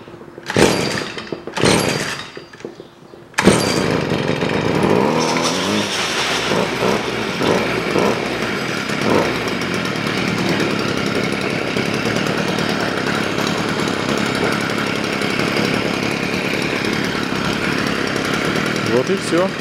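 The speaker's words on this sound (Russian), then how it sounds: "Пробуем заводить." A Stihl FS 55 petrol string trimmer with carburettor trouble is pulled a few times by its starter cord, then fires and runs with a loud, buzzing two-stroke engine drone that holds steady to the end.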